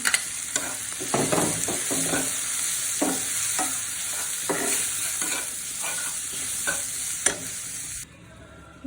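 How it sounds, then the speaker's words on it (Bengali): Crushed garlic stirred into cooked tomatoes in a hot pan, giving a steady sizzle broken by repeated scraping strokes of a spoon, close and fairly loud, with no talking, until the sound drops away near the end. "এখন হচ্ছে আমি থেতো করা রসুনটা দিয়ে দিচ্ছি।"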